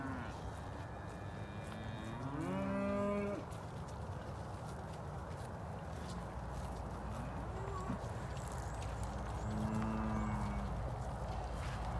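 Cattle low repeatedly on a farm at calving season, including a newborn calf bawling after its mother ran off into the field; two long rising-and-falling moos stand out over a steady outdoor rumble, moderately distant.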